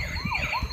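A small electronic toy police car siren wails in a wavering up-and-down tone over quiet room noise, brief and moderately loud.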